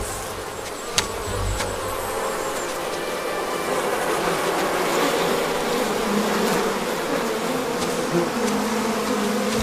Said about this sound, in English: One of the bees not sleeping?